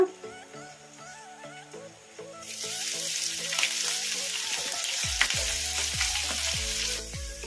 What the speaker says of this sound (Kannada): ಈ ಹಸಿಮೆಣಸಿನ್ಕಾಯಿ ಎಣ್ಣೆಗೆ ಫ್ರೈ ಆಗ್ಬೇಕು ಚೆನ್ನಾಗಿ